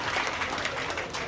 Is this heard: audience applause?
yes